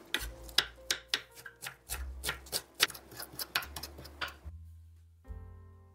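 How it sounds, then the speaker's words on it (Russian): Rapid, close knife chopping of onion and dill on a cutting board, with quick, uneven strokes running for about four seconds before falling quiet, followed by a single light knock. "Мелко порежу немного лука и укроп."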